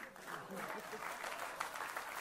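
An audience at a film trailer launch claps in a dense, steady burst of applause, moderately loud and continuous through the moment.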